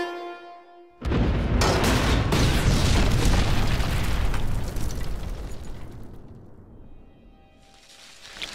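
A cartoon methane explosion in an underground tunnel erupts suddenly into a loud, sustained roaring blast that rumbles for several seconds before slowly fading.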